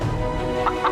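A rooster in an animated legend gives two short, bright clucks late in the moment, set over a steady tonal background.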